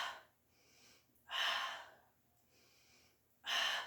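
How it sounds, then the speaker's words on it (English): Slow, deep breaths during a Pilates exercise: two loud inhales or exhales rush in close and clear, each lasting about half a second, separated by quiet pauses. "stay here and breathe"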